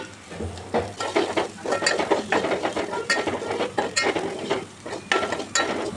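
Onions, dry red chillies and cumin fry in ghee in a pan, crackling with repeated scraping stirs in an uneven rhythm, close and moderately loud with no voice.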